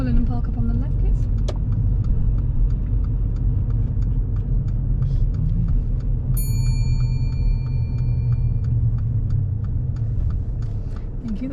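A learner's car on a driving lesson idles with a steady low engine rumble as it pulls in to park on the left, close and continuous, with a brief chime partway through and an instructor's voice talking over it.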